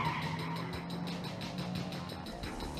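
A car driving fast in The Terminator (1984), a faint, muffled rush of engine and tire noise with a rhythmic pulsing, heard quietly as if from a distance.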